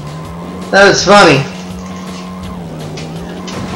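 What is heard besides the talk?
car driving and skidding in The Dukes of Hazzard video game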